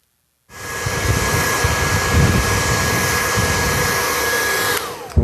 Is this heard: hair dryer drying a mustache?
yes